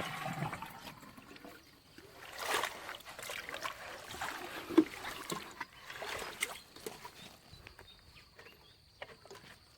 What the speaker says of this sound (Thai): ก็มาตักน้ำนะครับ